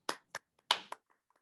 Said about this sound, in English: offer some welcoming applause to Honorable Assemblymember Bonta.